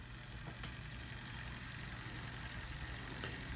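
A fully 3D-printed pulse motor machine with a 5-inch rotor spins at several hundred RPM, giving a faint, steady whirring hum with slight periodic ticks, continuous and even throughout.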